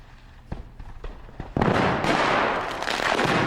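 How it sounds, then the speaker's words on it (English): A few scattered pops, then a sudden loud burst of violent crackling and fizzing that roars on steadily as a large lump of sodium explodes in pond water. "Bigger, better sodium explosion."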